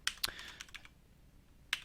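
Keys clatter on a computer keyboard during a Python programming session, a few sharp clicks in a quick burst followed by a pause and one more isolated strike, fairly quiet and close.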